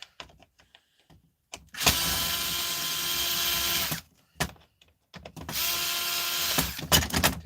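A power screwdriver whirs in two sustained bursts while backing flat-head screws out of an old plastic casing, with small clicks and handling noises between the runs.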